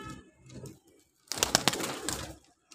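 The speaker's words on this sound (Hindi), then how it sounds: "तो ये 20 कबूतर है भाई, 10 जोड़े" Pigeons in a loft of ten pairs give soft, low coos, followed by a louder, dense flurry of calls and wing flaps at close range.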